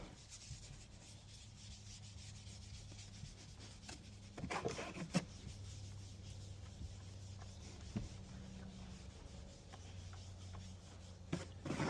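A steady scrubbing rub on the inside of a car windshield being prepped for window tint, close and continuous, with a few sharper scrapes and a low hum beneath.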